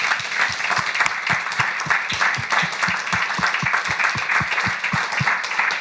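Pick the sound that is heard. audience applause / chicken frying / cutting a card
audience applause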